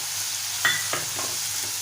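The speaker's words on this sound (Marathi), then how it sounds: "आता आपण जो टोमॅटो बारीक चिरून घेतलाय तो घालूया." Sprouted moong fries in a pan as chopped tomato goes in, a steady close sizzle with a couple of brief scraping stirs over a short span and no talking.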